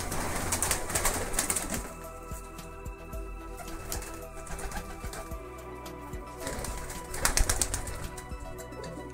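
Pigeons in a pigeon loft coo and flutter their wings softly in the background under a low steady ambient hum, with a few louder bursts of movement.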